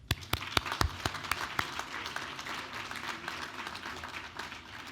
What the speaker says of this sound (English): deserve a very warm round of applause